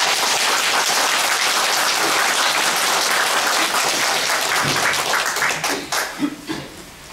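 An audience claps through a policy pledge announcement event, a dense sustained applause that thins out and trails off into scattered claps near the end.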